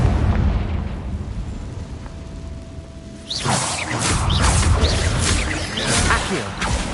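A Confringo spell explosion from the video game Hogwarts Legacy erupts into a loud, sustained fiery blast with crackling bursts, following a quieter stretch of rumbling game ambience.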